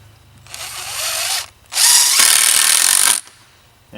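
A power drill driving screws at a 45-degree angle through one bench board into another: two loud whirring bursts, a short one then a longer, harder one, with a brief pause between.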